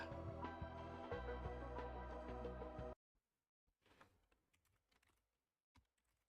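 Computer keyboard typing in quick, irregular clicks after loud music stops abruptly, the keystrokes soft and fairly close in a quiet room.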